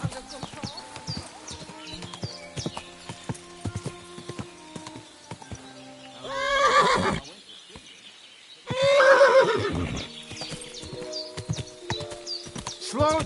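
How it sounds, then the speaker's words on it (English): A horse in Kingdom Come: Deliverance II lets out two loud, drawn-out neighs close by, separated by a pause, over steady hoofbeats and clip-clop, with people talking around it. "Don't you know how to keep your horse under control?"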